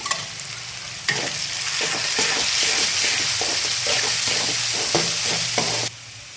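Vegetables frying in oil for egg fried rice, a steady loud sizzle broken by rhythmic scraping strokes of a spatula, close up, with no voices.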